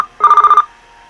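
A phone ringing in the video game Linda Brown, one brief electronic trill of rapidly pulsing tones lasting under half a second, loud and clear with nothing else under it.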